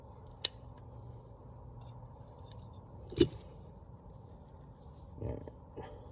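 Cutters trim PEX water pipe while installing a greenhouse water line: two sharp, isolated snips a few seconds apart, close and fairly quiet, followed by soft handling noise.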